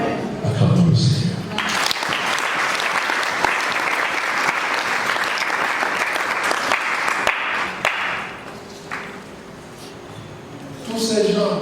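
A church congregation bursts into applause and cheering to acclaim the Lord during a sermon, broad sustained clapping with raised voices that holds steady, then thins toward the end as a voice returns.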